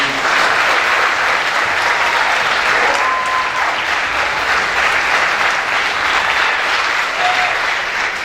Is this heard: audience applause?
yes